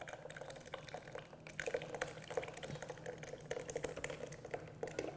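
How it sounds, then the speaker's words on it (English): Cooled ice cream ingredients pour into an ice cream maker, a steady liquid trickle with small splashing drips and light clicks, close and moderately quiet. "You just pour the cooled ingredients right inside."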